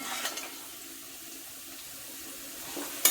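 Water runs from a tap as it is measured out by the glass for cooking varai rice, a steady, fairly quiet rush with a brief splash at the end.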